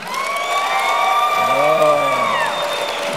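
A debate crowd backing John Mackey's camp against Kevin O'Leary erupts in loud applause mixed with cheering, whoops and sustained shouting voices, a full, continuous roar that swells midway and holds to the end.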